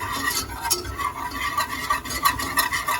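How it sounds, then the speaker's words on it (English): Butter melting in a pan while pasta cooks for pepperoni mac and cheese, a continuous close crackling sizzle with small irregular pops throughout. "Melting the butter."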